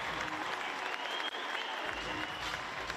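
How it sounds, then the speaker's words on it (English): A crowd at a CrossFit competition, the Torian Pro, applauds and cheers continuously in a large venue, a dense steady wash of clapping with voices mixed in. "Plenty of support for Tia Claire Toomey in the crowd"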